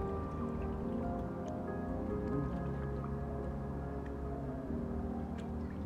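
Moray eels rinsed by hand in water: soft dripping and squishy splashes over a steady, fairly loud background hum, with no talking.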